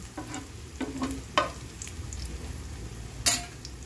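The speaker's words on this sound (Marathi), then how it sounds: "आता हे साईडला करूया आपण आणि त्याच्यामध्ये खोबरं घेऊया भाजून" Grated coconut dry-roasting in a pan for Konkani-style chicken masala, with a soft steady sizzle and occasional scraping clinks of a spatula stirring against the metal.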